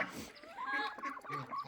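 Backyard chickens, a young rooster and a hen among them, cluck and murmur softly at close range in a short run of low, throaty calls.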